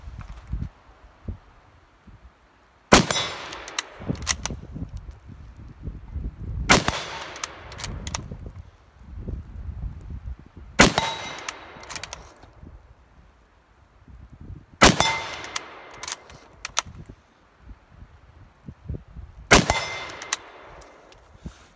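Winchester American Enfield rifle fired at a steel target outdoors: five sharp shots spaced about four seconds apart, each with a ringing metallic clang of the steel plate and a brief rumbling echo, no talk.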